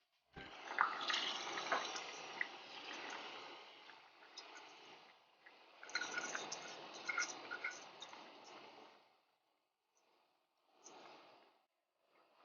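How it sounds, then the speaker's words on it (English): Soaked basmati rice pours into boiling chicken broth in a pot, giving wet splashing and sloshing in several bursts with short pauses between them, fairly quiet and close. "Now that the chicken broth has started to boil, add in the basmati rice that we soaked for 1 hour in water."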